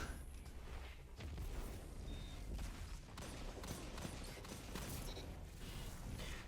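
Sustained weapon fire and charged blasts from a fusion rifle during a Crucible match in Destiny, dense and continuous with sharp cracks and booming hits layered over game noise.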